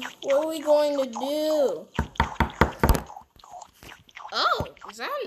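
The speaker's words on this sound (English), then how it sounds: "is that a knock at the door?" Sharp knocking on a door in a Roblox roleplay game, a quick run of about six loud raps in a row, with cartoonish game voices talking before and after.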